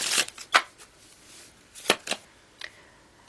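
Tarot cards being shuffled close by, a few separate riffling swishes and soft slaps spaced apart, with a quiet pause between bursts and no talking.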